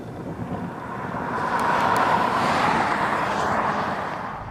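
A 2015 Toyota Camry XSE on a test drive, with steady road and engine noise that swells in the middle as the car picks up speed and then eases slightly.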